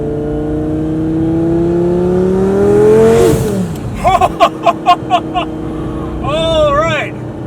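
A Lamborghini engine revs while driving, a loud close rising drone that climbs in pitch and then shifts into rapid pulsing as gears change, followed by a further revving swell.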